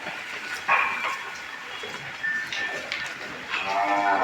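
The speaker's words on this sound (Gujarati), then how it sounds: "અહીંયા જુઓ જૂની નસલની જ કાંકરેજ ગાય છે" Kankrej cattle at a cow shelter in Kutch give low moos and calls against steady background noise, a few separate lowing calls at moderate distance.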